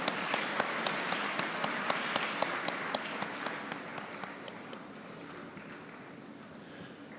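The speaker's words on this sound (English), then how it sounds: "Let us give them a huge round of applause." Hall applause for a graduate at a university convocation, a steady, moderately distant patter of many hands with a few sharper individual claps, slowly fading over several seconds.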